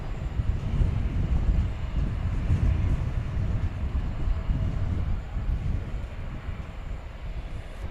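A FedEx Boeing 757 cargo jet, Flight 1058 from Alliance Airport in Fort Worth, arrives at DFW Airport at night, a steady low engine rumble carrying on throughout with no talk.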